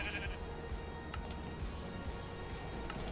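Sheep bleating in the Minecraft Hypixel Skyblock video game, several short nasal bleats over a steady low game background, close and moderately loud with no talking.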